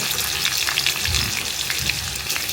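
Mustard seeds, chana dal, green chillies and curry leaves frying in hot oil for a tempering, giving a steady, close, loud sizzle with small crackling pops throughout.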